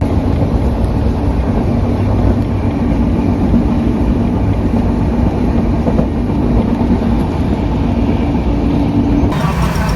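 A Kerala Express train running while riding inside a sleeper coach: a loud, steady rumble and rattle of the carriage with faint rhythmic clatter from the rails, continuous throughout with no talking.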